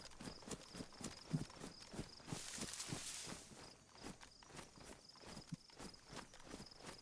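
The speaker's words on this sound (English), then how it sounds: "But the footsteps stopped when I got my gun out." Footsteps in a bodycam-style shooter game, a steady run of regular, fairly close treads with a brief noisy burst partway through, no talking.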